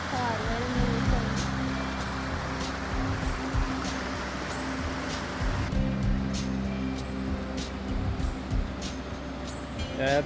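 Gatton Creek Falls cascading in the Olympic temperate rain forest, a steady broadband rush of falling water heard close and continuous, with a person talking over it.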